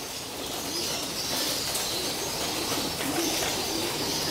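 Pigeons feeding on breeder mix at a loft make a dense, continuous wash of soft cooing, pecking and fluttering, steady and close throughout.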